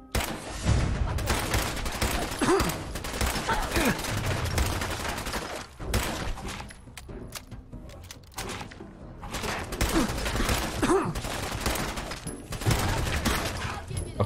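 Rapid bursts of gunfire from Fallout 4 combat, dense and loud through most of the stretch, briefly thinning in the middle before heavy shooting resumes, with a player's voice talking faintly over it.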